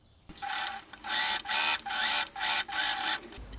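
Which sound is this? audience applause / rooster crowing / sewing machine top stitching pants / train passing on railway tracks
sewing machine top stitching pants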